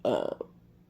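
A short, loud, voiced burp lasts about a quarter second and trails off with a small second gulp, heard close and on its own.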